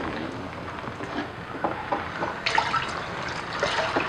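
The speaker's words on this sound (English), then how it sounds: "I'm going to add just a touch of water" About a quarter cup of water is poured into stir-fried pad thai noodles in a pan, a soft brief splash and sizzle close by, faint and unaccompanied by talk.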